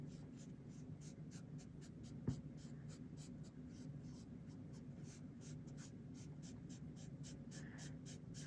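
Soft, steady rubbing of PanPastel across paper, a faint continuous scratchy friction with rhythmic strokes over a low background hum and no voices.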